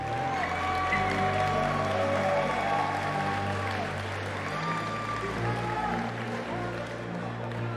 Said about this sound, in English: please, one more time, round of applause for your Grand Blue EVO 2022 Top 8